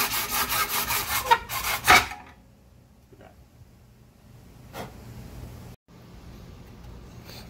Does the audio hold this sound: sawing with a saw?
yes